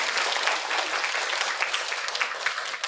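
Sustained applause from an audience at a Korean book concert, following a live singing bowl performance; dense, steady clapping fills the whole stretch without a break.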